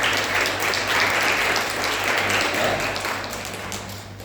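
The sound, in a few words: church congregation applause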